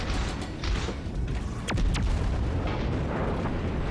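Naval artillery fire from a tier XXX destroyer battle in the World of Warships video game, deep booming blasts rolling under a constant low rumble, with a pair of shell whistles streaking past at mid-clip.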